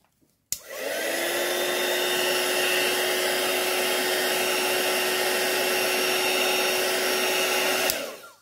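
Heat tool heating tape on a Spellbinders Platinum die cutting machine, switched on with a click, then a steady close whirring roar with a thin whine, running evenly for about seven seconds before clicking off.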